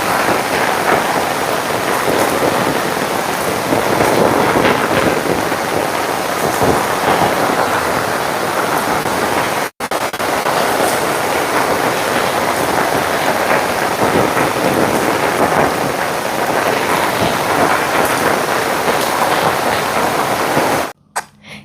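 Heavy rain pours steadily and loudly outside a house as floodwater rises around it, with rumbling thunder woven in, one brief gap near the middle and an abrupt cutoff at the end.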